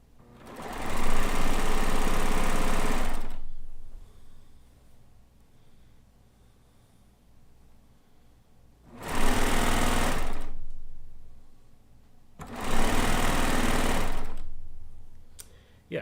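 An Allegro sewing machine stitches quilt pieces in three loud, steady bursts, one long run followed by two shorter ones, with quiet pauses between.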